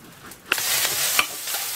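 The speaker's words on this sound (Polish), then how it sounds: "Zaczyna się już smażyć." Finely diced bacon brought from Poland sizzles in a pan with faint stirring clicks, a steady close frying hiss with no talk.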